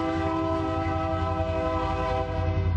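A train horn blares loud and close in one sustained, steady chord over the low rumble of the passing train, continuing unbroken throughout.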